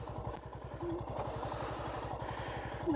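A motorcycle engine runs close by with a steady, rapid putter, then is shifted into gear with a faint clunk near the end.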